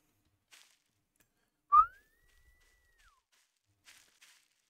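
A single rising whistle that holds a steady pitch for over a second before dropping off, made to call a character in a medieval role-play game, with faint footsteps or rustles around it and no talk.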